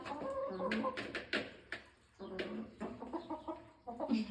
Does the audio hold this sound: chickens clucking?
yes